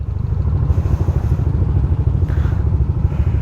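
Motorcycle engines on a long-distance endurance ride, a steady loud rumbling drone with rough clattering pulses and slight rises in revs, heard close and continuous without speech.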